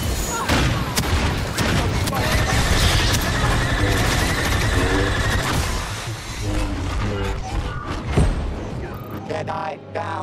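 Star Wars Battlefront 2 gameplay with continuous blaster fire and booming explosions in a dense, loud battle mix, while a voice talks over parts of it.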